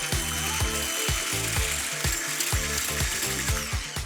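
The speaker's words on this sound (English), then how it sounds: "Now I'm going to use this incredible hand blender." A hand blender runs steadily while mixing a gluten-free, refined-sugar-free doughnut-hole batter, giving a continuous close whirring with a gritty, ratcheting rhythm and no talk over it.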